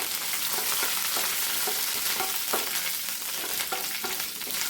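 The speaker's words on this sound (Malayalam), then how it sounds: "നമുക്ക് ആവശ്യത്തിന് കറിവേപ്പില ഒന്നിളക്കി കൊടുക്കാം" Curry leaves with dried red chillies fry and get stirred in a pan over low flame, a steady crackling sizzle with repeated scraping strokes of a spoon, close and continuous, no talking.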